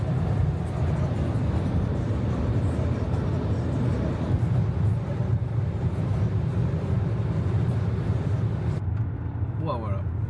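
Drift car engine at full throttle running flat out toward top speed at the ULTRACE 2024 drift event, a dense steady roar close and loud throughout, cutting off abruptly near the end.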